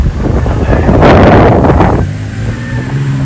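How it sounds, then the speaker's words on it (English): Strong wind buffets the microphone outdoors beside a road lined with trees, a loud roaring rush that swells in the middle and then eases to a lower steady hiss. "It's really windy today, so they're falling off"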